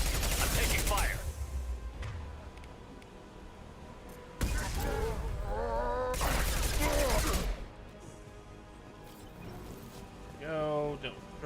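Gunfire in the shooter Mass Effect Legendary Edition, loud bursts of automatic weapon fire and impacts in two main volleys with scattered shots, mixed with voices speaking over the combat.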